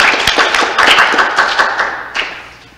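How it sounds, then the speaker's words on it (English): Audience applause welcoming speakers at a mental health workshop, a loud, dense burst of clapping from a room of people that trails away toward the end. "So let's give them a big round of applause."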